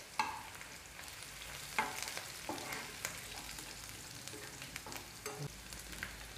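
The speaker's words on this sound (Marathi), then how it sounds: "हे बघा इथे लसूण आणि मिरची छान तळलेली आहे" Garlic and green chilies fry in hot oil for a methi bhaji, a quiet, steady sizzle broken by occasional stirring scrapes and taps of a spoon against the pan.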